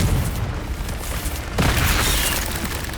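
Confringo explosion spell cast in Hogwarts Legacy, a loud booming blast that erupts suddenly mid-clip amid an already noisy, rumbling battle soundscape.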